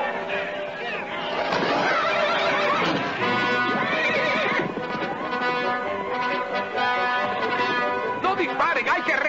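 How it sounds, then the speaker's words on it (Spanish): A horse neighs loudly and shrilly in an Old West scene, the whinny rising and falling over several seconds while raised voices overlap it. "¡Ayúdenle a subir al caballo todos!"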